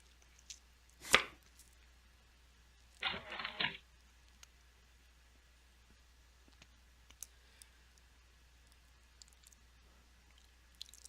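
Deck shuffle in the Dueling Book online card game during a match against a 60-card Paleozoic deck: a sharp click followed by a short, quiet rattling burst, then near silence.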